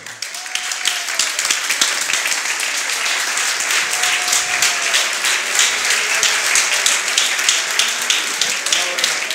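Steady, lively audience applause greets the winners of a Spanish sea bass fishing competition, with many hands clapping continuously throughout and some speech faintly mixed in.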